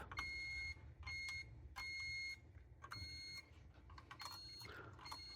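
A continuity tester beeps while fuses in a Williams Elvira and the Party Monsters pinball machine are checked: a series of loud, close electronic tones, some sustained and some short, with quiet gaps between them.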